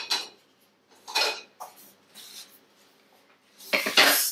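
Metal cookware being set down and handled in a home kitchen, a few separate clattering knocks and scrapes with quiet gaps between them, ending in a louder burst of rattling.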